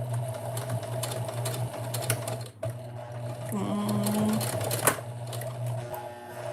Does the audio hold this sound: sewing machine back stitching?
yes